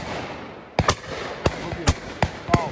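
Shotgun shots ring out at a game shooting lesson on Exmoor, several sharp outdoor bangs in quick succession, distant-to-moderate in loudness over light background noise.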